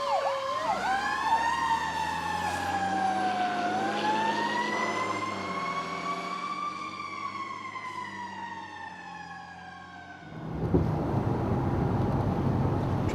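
Fire engine Engine 27 pulling out of the station bay on the way to a Jersey Shore boardwalk fire, its siren wailing loud and close in long rising and falling sweeps, then a rumbling truck engine and road noise once the siren stops.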